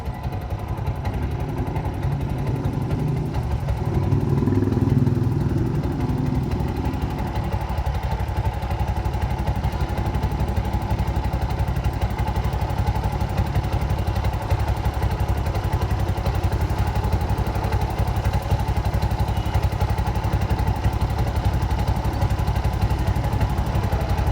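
A Bajaj BS6 motorcycle fitted with a CNG tank runs close by, with a brief throttle rise early on and then a steady, chugging engine rumble with light clatter and no talk.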